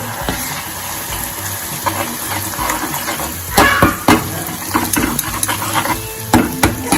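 Tomato gravy sautés in a pan, sizzling and bubbling steadily. Scraping strokes and clatters from stirring come and go, growing busier toward the end.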